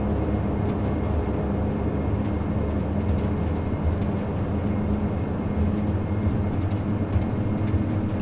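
Q400 turboprop engines in a flight simulator droning steadily and loudly through a takeoff roll, a dense continuous roar with no voices over it.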